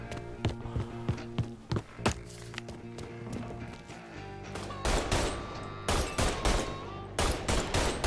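Gunfire erupts in the video game Mafia 3, with rapid sharp shots in scattered bursts and a denser, louder volley toward the end, heard close with game ambience between.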